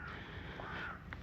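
Crows caw over a farmer's field in North Lincolnshire, a few harsh calls rising over a steady outdoor background, moderately close, with no voices.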